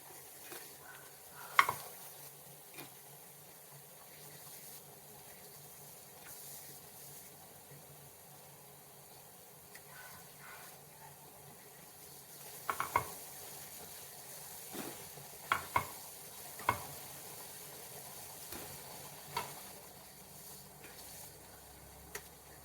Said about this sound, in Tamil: மீடியம் ஃப்ளேமில் கொஞ்ச நேரம் உட்காந்து அது வேகட்டும்